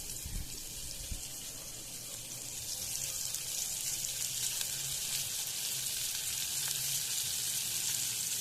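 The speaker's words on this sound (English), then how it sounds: "Add the sliced onions." Sliced onions hit a hot, salted pan while a Spanish omelette is being made, and a steady frying hiss builds after a couple of seconds, then holds as a close, continuous sizzle with no talking.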